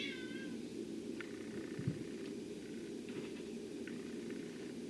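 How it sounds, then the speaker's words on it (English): A second house cat meows faintly from upstairs, a few short distant calls over a steady hum of background noise. "Did you hear that? That was my other cat."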